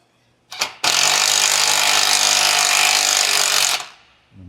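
A power tool drives a self-tapping bolt during a Jeep Wrangler JK Rubicon front lift install, a short blip followed by one continuous loud, steady whirring-rattling burst of about three seconds that stops abruptly.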